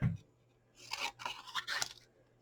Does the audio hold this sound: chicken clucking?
no